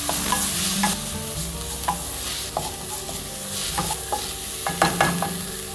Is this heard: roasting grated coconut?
yes